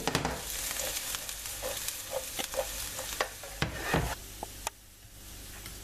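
Onions and bell pepper frying in a pan for potato and egg bourak, a steady close sizzle with repeated scraping and stirring knocks, no talking.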